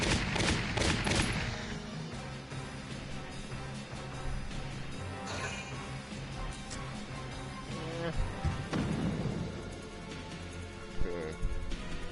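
Rapid bursts of gunfire from anti-tank units in the tactical war game Valkyria Chronicles, loud volleys at the start, then sporadic shots and battlefield noise under a steady background hum, with a voice talking at times.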